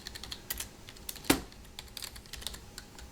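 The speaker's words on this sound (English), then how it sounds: "Let's just try typing something." Keys clatter on a computer keyboard attached to an old IBM eServer xSeries 220 Pentium III server, a quick run of light, close taps with one sharper louder strike, heard alone over a faint hum.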